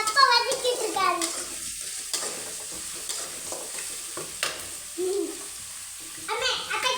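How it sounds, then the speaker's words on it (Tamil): Mustard seeds, onions and curry leaves fry in a pan, a soft sizzle with occasional stirring scrapes, while people talk over it intermittently. "கடுகு பொரிஞ்சிடுச்சு. வெங்காயமும் கருவேப்பிலையும் போட்டுக்கலாம்."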